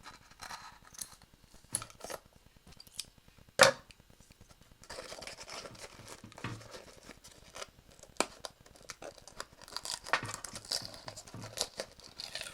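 Scissors snip through a stiff paper mache insert for a Pokeball case, giving a series of close, crisp cuts with crinkling and rustling paper between them.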